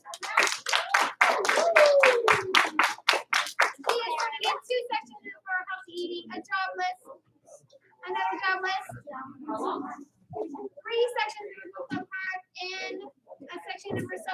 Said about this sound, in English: Doing a bunch of 1 clap, 2 claps.